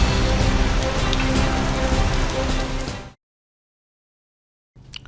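Heavy monsoon rain pounds down in a loud, continuous hiss for about three seconds and then cuts to silence, followed by a brief burst of sound at the very end.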